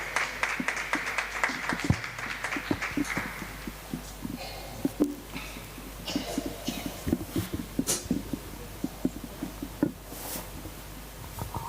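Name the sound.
audience applauding in church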